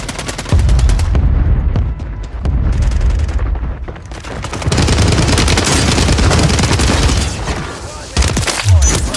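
Heavy gunfire in Call of Duty Warzone, loud sustained bursts and booming shots nearly continuous for the whole stretch, with brief lulls between volleys and faint voices under the noise.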